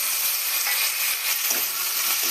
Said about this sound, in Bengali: এবার আমি টমেটো কুচি দিয়ে দিচ্ছি।